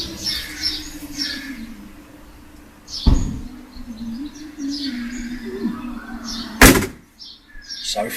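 The passenger door of a Corvette C3 is opened outdoors, giving a loud sharp clunk, then another clunk a few seconds later, with birds chirping in the background.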